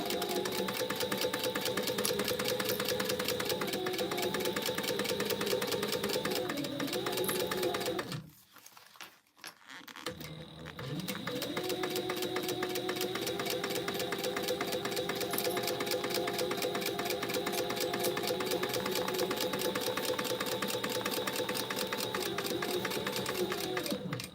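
A sewing machine stitches vinyl for a sling bag in long steady runs, loud and close, with a brief pause midway before the motor picks up again.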